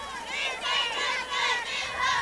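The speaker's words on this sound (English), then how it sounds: "I think people walked down there to start cheering on their kids to close this thing out" Crowd of parents shouting and cheering on their kids at a 10U youth football game between the Hiram Hornets and New Hope Patriots, a steady swell of many voices rising and falling in waves, fairly close and continuous.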